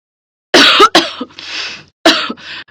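A few harsh, close coughs from a sick woman in two bursts, each followed by a raspy breathy tail, with a short pause between them.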